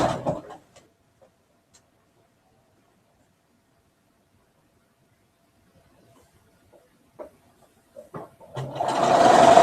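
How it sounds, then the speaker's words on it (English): A sewing machine stitching quilt patches together starts up near the end after long near-silence and a few soft taps, whirring loudly and steadily for about a second. "I'm having such fun sewing these 16 patches together."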